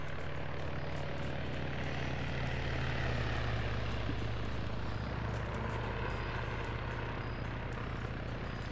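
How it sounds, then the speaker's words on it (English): A helicopter in a military shooter game drones steadily overhead, its low rotor hum and engine tone holding constant and loud with no break across the whole stretch. "Helicopter."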